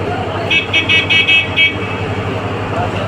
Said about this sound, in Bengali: পাশের লঞ্চ থেকে হর্ন করছে